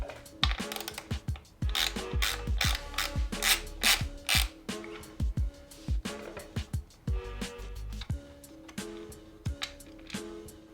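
Ratchet with a 14mm hex socket working a bolt on a motorcycle, giving rapid rasping clicks in repeated bursts with brief pauses and some sharper knocks, close and fairly loud, with no voices.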